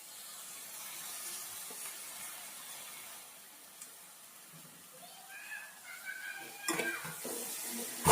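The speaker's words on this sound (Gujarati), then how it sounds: "આપણા કાંદાનો કલર બદલી ગયો એટલે એની અંદર નાખી દઈએ ટમેટું" Chopped tomato goes into onions frying in a pan for a pasta dish. A faint, quiet hiss builds into louder stirring and a sudden clatter of a utensil against the pan near the end.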